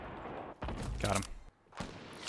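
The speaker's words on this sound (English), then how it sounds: "Take a chill pill, whoever's shooting at me." Gunfire in a Fortnite Battle Royale match comes as bursts of rapid shots with thuds, moderately loud in two bursts separated by a short pause.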